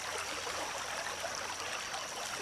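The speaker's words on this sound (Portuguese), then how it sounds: "Dá pra gente ouvir o barulho da cachoeira" A small waterfall in a park produces a soft, steady rush of falling water. The sound is quiet and constant, with no talking.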